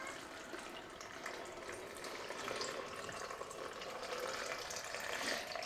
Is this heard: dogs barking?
no